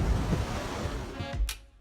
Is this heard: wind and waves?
yes